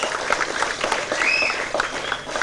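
A crowd claps loudly and continuously at a Tamil film audio launch for Valiyudan Oru Kadhal, a dense, steady burst of applause.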